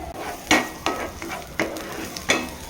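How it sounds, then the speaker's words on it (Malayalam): Halved small shallots fry in oil in a pan, a close sizzle broken by about five sharp, evenly spaced stirring scrapes. "ഇതിലേക്ക് നമുക്ക് കുറച്ച് എണ്ണ ഒഴിച്ച് കൊടുക്കാം കുറച്ച് ഉള്ളി അരിഞ്ഞു വെച്ചിട്ടുണ്ട് ചെറിയ ഉള്ളിയാണ് ഇത് നമുക്ക് ഇതിലേക്ക് ഇട്ട് കൊടുക്കാം"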